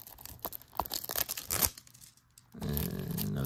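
Plastic shrink wrap being torn and peeled off a Black Adam 4K Ultra HD Blu-ray case, with close crinkling and ripping bursts that stop for a moment before a steadier rustle returns.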